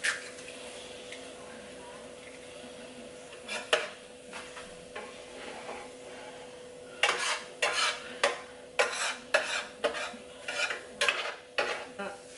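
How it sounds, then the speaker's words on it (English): Egg being mixed into fried rice in a pan, soft sizzling under a run of rhythmic scraping and clacking strokes from the utensil, growing busier and more regular in the second half. "Mix the egg up."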